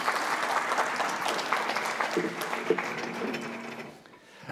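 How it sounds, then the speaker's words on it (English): Church congregation applause, steady and full, thinning out and fading near the end, with faint thuds and mechanical clicks mixed in. "Give them a round of applause."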